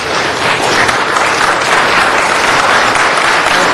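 Dense, steady clapping from an audience at a budget hearing, loud and sustained for several seconds without pause.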